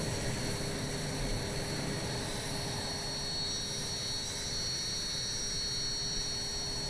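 The jet engine of a Hawk T1 advanced trainer in a flight simulator drones steadily, with a loud, constant roar and high whine that holds unchanged throughout with no talking.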